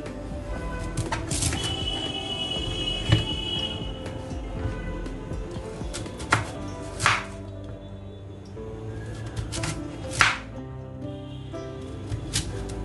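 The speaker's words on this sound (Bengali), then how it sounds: "মিষ্টি কুমড়ো ভাজি করব, এইভাবে কেটে নিচ্ছি" A knife cuts through sweet pumpkin being prepared for frying. A few sparse, soft chops and cuts land irregularly over a quiet, faint kitchen background.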